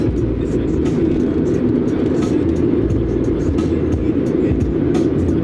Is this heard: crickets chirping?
no